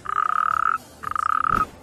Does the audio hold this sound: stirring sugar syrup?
no